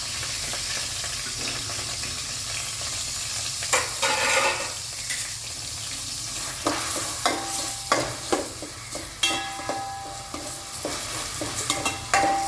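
Onions and green chillies sauté in a pan for a bitter gourd curry, a soft sizzle under increasingly frequent sharp scrapes and taps of a spoon stirring, close up with no talking.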